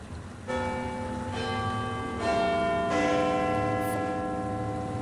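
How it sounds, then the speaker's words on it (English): Big Ben, the large bell in London's Elizabeth Tower, strikes repeatedly, each deep toll ringing on and overlapping the last, loud and sustained. "there is the Elizabeth Tower, with its huge bell, Big Ben"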